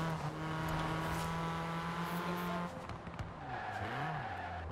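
A car in a racing video game rolls up to the start of a race, steady engine hum that shifts and drops as it slows, with a brief tire squeal near the end.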